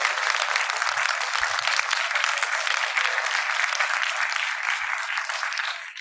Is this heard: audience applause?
yes